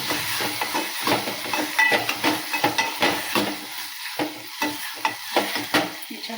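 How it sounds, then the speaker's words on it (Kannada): A spoon stirs and mixes potatoes and tomato in a hot pan, repeated scraping strokes in an uneven rhythm over a soft sizzle, close and clear with no talking. "ಇದನ್ನು ಚೆನ್ನಾಗಿ ಮಿಕ್ಸ್ ಮಾಡ್ಕೊತೀನಿ ನೋಡಿರಿ"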